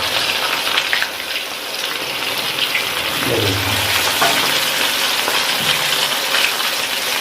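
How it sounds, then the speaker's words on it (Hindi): Chicken leg pieces deep-fry in oil with a steady, dense sizzle and bubbling, loud and continuous, in a commercial kitchen with occasional faint clunks beneath. "चिकन लेग पीस, और हम अब ये फ्राई करने लगे हैं"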